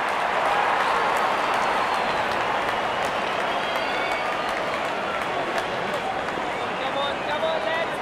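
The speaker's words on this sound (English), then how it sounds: "Wonderful 50 and the crowd applauds." A large stadium crowd at a Pakistan versus India cricket ODI in London applauds a batsman's fifty, a broad, continuous wash of distant clapping and crowd noise with commentary voices over it.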